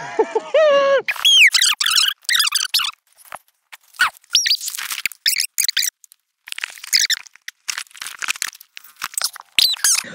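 Harsh, squeaky rufous treepie calls chatter in bursts, some rising whistles among rapid scratchy notes, fairly close with gaps of quiet between.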